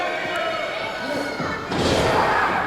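A wrestler lands strike after strike on an opponent in the corner during an eight-man tag match, dull thuds over steady crowd noise and commentary, with a louder crowd surge near the end.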